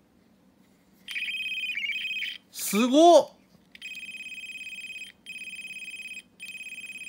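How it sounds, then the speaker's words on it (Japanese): A Gaoranger G-Phone toy mobile phone, a sound-making candy toy, plays its electronic call ringtone as steady repeating beeping tones, clear and close. A short excited voice breaks in between two stretches of ringing. "マジで携帯のコール音じゃん。"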